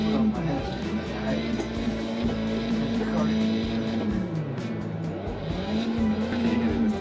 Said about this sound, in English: You can hear the gear shifts clearly.